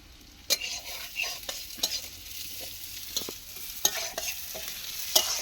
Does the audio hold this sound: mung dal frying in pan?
yes